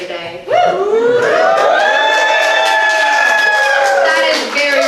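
An audience at a live show whoops in rising, drawn-out cries for someone's birthday, with cheering voices blending close and loud before tapering off.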